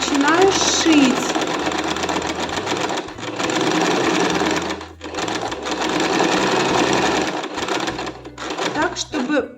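Sewing machine running a straight seam on a jacket, loud and close with rapid rhythmic stitching in several bursts separated by short stops, with someone talking over it.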